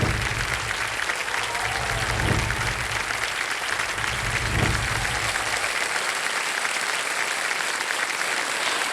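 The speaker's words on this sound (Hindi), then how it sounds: "मजुमदार जी का तालियों के साथ अभिनंदन।" Studio audience applause for coach Amol Majumdar of the India women's cricket team on a television quiz show, a loud, continuous wall of clapping with faint musical tones underneath early on, holding steady to the end.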